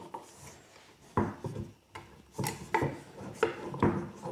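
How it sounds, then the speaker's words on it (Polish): A woodworking bar clamp, its metal plates gummed with dried glue, sticks and jams while being slid along its bar, giving a series of short wooden knocks and scraping rasps at irregular intervals, close by. "wybrałem akurat do pokazania Wam ścisk, który kurczę się klinuje"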